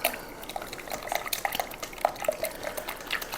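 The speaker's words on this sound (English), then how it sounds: "And we'll whisk this together." Wet ingredients for a chocolate cake being whisked in a bowl, with quick light clinks and wet slapping strokes in an uneven rhythm, close and moderately quiet.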